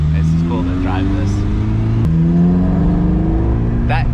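An SR20-swapped Datsun 2000 Roadster engine revs up and down close by, its note rising and falling in a throaty drone, with a brief sharp click midway and people talking over it.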